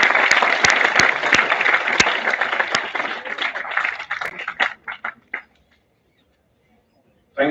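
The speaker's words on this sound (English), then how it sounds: "Can we have a huge round of applause for ma'am as well?" An audience at an international conference gives a round of applause, dense and loud at first, then thinning to a few scattered claps before fading to silence.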